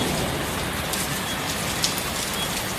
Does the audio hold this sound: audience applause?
no